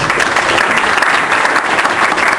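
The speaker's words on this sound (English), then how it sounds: "please give a big round of applause to Damian Rintelmann" Audience applause at a mobile marketing talk welcoming a presenter, steady loud clapping from a crowd filling the whole moment with no speech over it.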